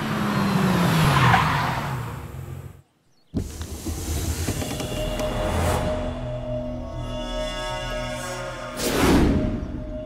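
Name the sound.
car braking to a stop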